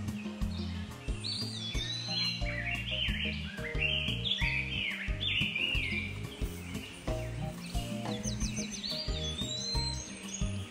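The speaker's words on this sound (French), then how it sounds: "la présence de nombreux oiseaux ainsi que leur chant incessant et assourdissant interpelle" Many birds keep up continuous chirping and whistling song on a papaya farm, rising and falling through the whole stretch over a steady background of music.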